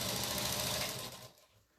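A sewing machine runs in a fast, steady stitching burst as it sews binding onto a quilted fabric Easter basket, fairly quiet and close, then stops abruptly, leaving near silence.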